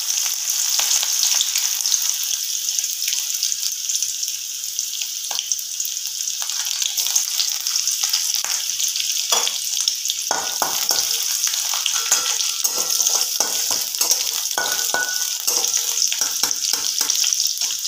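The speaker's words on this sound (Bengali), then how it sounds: "তেলটা গরম হয়ে গেছে, এর মধ্যে আমি একটুখানি পেঁয়াজ দিয়ে দেবো।" Onion sizzles loudly in hot white cooking oil in a pan, a continuous bright hiss with occasional stirring scrapes and crackles, close and steady throughout.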